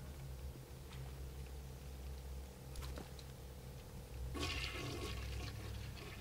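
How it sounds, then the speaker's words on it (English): A toilet flushes in Bioshock Remastered, a steady watery rushing under low ambient hum that swells into a louder gurgling surge partway through and continues to the end. "Flush the toilet."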